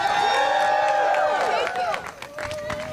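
A crowd claps and cheers for Representative Tlaib at a live rally against HUD cuts, bright and loud, with voices calling out over the applause and the clapping fading near the end.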